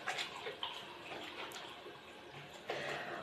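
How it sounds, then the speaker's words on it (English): Tap water runs steadily into a sink as hands are washed with antiseptic liquid soap, a continuous close splashing rush with slight shifts as the hands move under the stream. "Wash hands with plenty of lather and friction."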